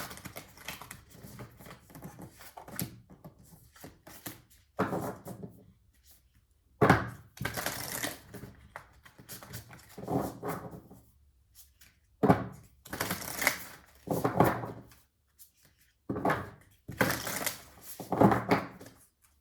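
Oracle cards are shuffled up close in repeated bursts of quick riffling and flicking, separated by short quiet gaps.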